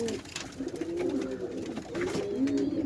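Soft, throaty pigeon coos repeat in a steady rolling pattern close by in a pigeon house, alone and fairly quiet.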